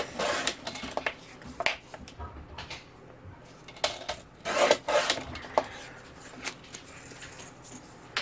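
A chipboard cutter works through a sheet of chipboard in a series of short scraping, rasping strokes, irregular and close, with quiet pauses between bursts and no talking.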